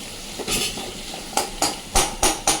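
Fish roe curry being stir-fried in a pan, with a spoon scraping and stirring in a series of distinct, close strokes over a soft sizzle.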